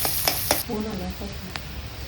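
Onion sizzles as it is sautéed in a pan for a Kardai bhaji recipe, a faint hiss with a few stirring scrapes and short clicks.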